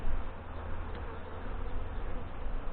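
A crowd of honey bees buzzes around an opened hive during an inspection, a dense, steady, close drone that continues throughout.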